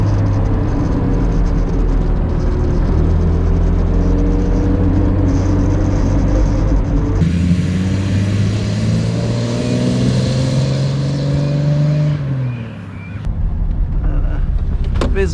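A 1955 Mercedes 300 SL Gullwing engine running while driving, a loud steady drone with rising and falling revs and wind rush, the engine dropping away near the end under a brief voice.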